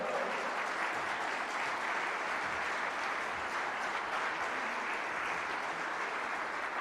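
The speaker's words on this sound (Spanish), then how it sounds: "denle un aplauso al Señor" A church congregation applauds steadily for the whole stretch, a dense, even wash of clapping with no gaps and no voices rising above it.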